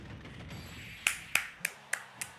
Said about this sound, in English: I clapped too early